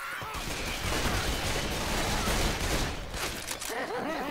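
Gunfire in the zombie shooter game Left 4 Dead 2 plays as a dense, continuous barrage of overlapping shots, loud throughout, with a slight dip near the end.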